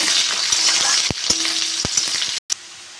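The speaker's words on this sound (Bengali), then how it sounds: "পেঁয়াজটা একটু ভেজে নেব" Onion fries in hot oil with Bengali five-spice seasoning, a loud close crackling sizzle with a few spatula knocks and a brief pause near the end.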